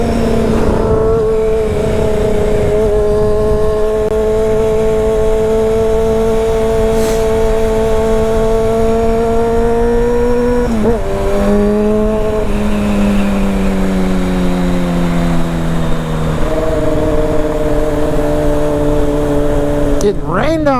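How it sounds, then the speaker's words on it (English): A Honda CBR 600 motorcycle revs beneath a bridge in the rain, its loud, close engine whine holding steady, then dropping and climbing again in repeated surges over about twenty seconds. "if you guys don't rev it up"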